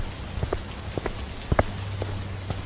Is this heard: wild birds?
no